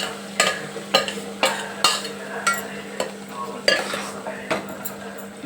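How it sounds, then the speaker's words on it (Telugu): Chicken added to fried onions sizzles steadily in a pan while a utensil stirs it, sharp scraping strokes recurring roughly every second, close and loud, with no talking. "ఉల్లిపాయలు వేగాక చికెన్ వేయాలి ఫ్రెండ్స్."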